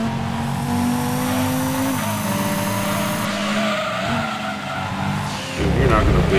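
An all-wheel-drive Group B rally car of nearly 400 horsepower drifts in Gran Turismo 2, its engine droning loud and steady under a long tire squeal, with a sharper skid and surge of revving near the end.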